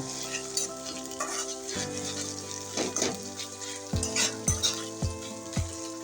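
Ginger garlic paste frying in a pan for a broiler chicken curry, a steady bright sizzle throughout with repeated spoon scrapes and several sharp clinks against the pan near the end.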